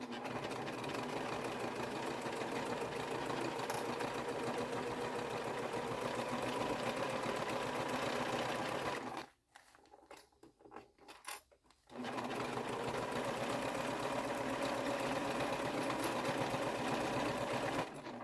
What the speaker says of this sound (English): Got my needle down. Back stitching.